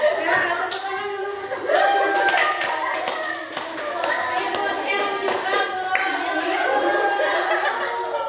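Classroom clapping, uneven rhythmic hand claps from several people mixed with children's voices and light laughter, close and moderately loud.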